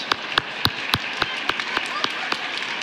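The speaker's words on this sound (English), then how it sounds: "Everybody give yourselves a round of applause." Scattered applause from a group of workshop participants, a handful of sharp individual claps spaced irregularly and fading out, fairly quiet, with faint voices around.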